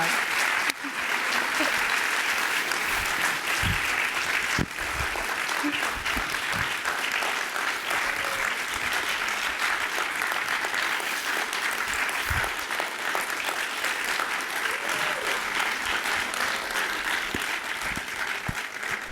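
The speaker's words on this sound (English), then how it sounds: "please join me in a final round of applause for all of our speakers today" A conference audience gives sustained applause for the day's speakers: a thick, steady wash of many hands clapping for nearly twenty seconds, with a few sharper individual claps standing out and no talk over it.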